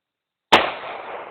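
A single close gunshot from a first firing session in Bicol: one sharp, loud crack after a moment of silence, followed by a short fading echo.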